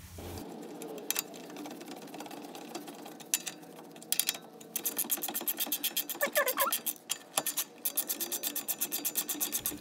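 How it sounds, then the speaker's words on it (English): Nuts on a lower control arm of a 1993-2001 Toyota Camry being tightened: faint rubbing and scraping at first, then a long run of fast, even ratchet clicks, close and steady over low workshop background. "Now we're going to tighten those nuts."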